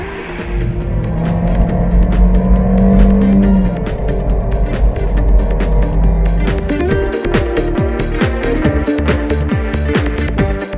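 An Abarth 595C Turismo driven hard on a speed ring, its loud engine droning and revving continuously close by, with rapid gear-change bursts and possible tyre squeal toward the end; no talking.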